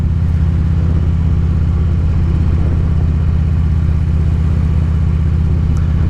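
Motorcycle engines rumble steadily and loudly on a road, a continuous low droning pass-by with no pause, near and alone without talk.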